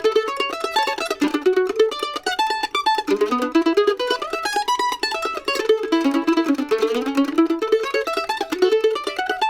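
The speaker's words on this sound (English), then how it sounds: "the first one is going to be called staggered 16th notes" Mandolin picking fast staggered sixteenth-note arpeggio patterns in bluegrass Monroe style, bright rapid tremolo-like plucked notes rising and falling continuously, close and clear with no voices.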